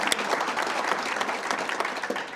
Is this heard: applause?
yes